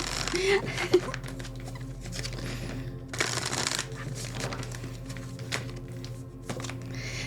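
Soft riffling and patter of tarot cards being shuffled, in short bursts, quiet and close, with a voice speaking faintly in the background.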